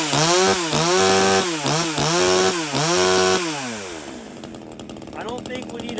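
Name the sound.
budget Amazon chainsaw running after starting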